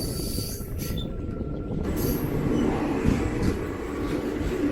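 A passenger train running along a bypass railway line, with steady rumbling wheels, metallic squeals and high rail screeches over a constant heavy roar heard from on board.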